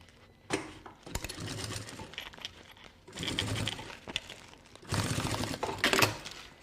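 A domestic sewing machine stitching fabric in three short bursts separated by pauses, close and moderately loud, with clicky mechanical texture and no talk.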